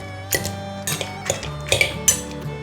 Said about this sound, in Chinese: 把豆腐压烂